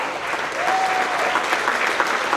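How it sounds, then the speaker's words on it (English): A crowd at a monthly workplace celebration applauds birthday celebrants, steady dense clapping close by that swells and holds for a couple of seconds, with a faint whistle-like tone briefly riding above it. "Let's give those guys a round of applause as well."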